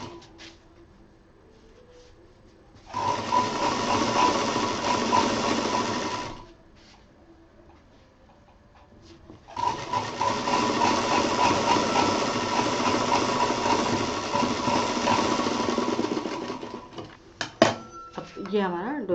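A sewing machine stitches fabric for a thermos case in two long close runs, with a pause between them and some clattering handling at the end.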